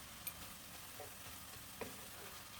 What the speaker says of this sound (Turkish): Soğanlar ölene kadar tekrar kavuruyorum.